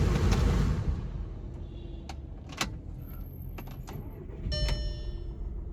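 Skoda Superb petrol car with a cylinder misfire being shut off and restarted, low rough engine rumble with scattered clicks and clacks of key and switch, plus a brief higher whine near the end.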